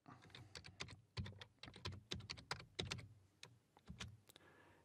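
Rapid keystrokes on a computer keyboard, close and clear, in irregular bursts of clicks with short pauses, no voices.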